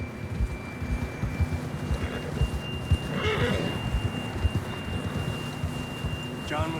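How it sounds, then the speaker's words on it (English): A horse whinnies once in Red Dead Redemption 2, with soft hoofbeats thudding underneath and ambient game sound throughout. "John was riding that horse when we left Blackwater."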